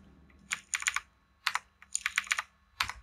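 Computer keyboard typing while entering an e-way bill number, bursts of quick close clicks in several clusters with short pauses between, loud and alone.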